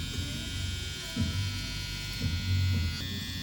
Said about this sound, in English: this trimmer is so detailed when it comes to freehanding